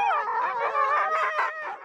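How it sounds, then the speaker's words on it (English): Harnessed sled-dog huskies on a western trail erupt in eager, high-pitched howling squeals and yips, several dogs overlapping close by in a wavering, excited chorus before setting off. "The barks and squeals aren't from pain. They just want to run."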